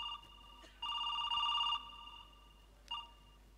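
A telephone rings in electronic, tonal bursts: a long ring with a short earlier chirp, then a brief ring near the end, fairly clear over a quiet background with no talking.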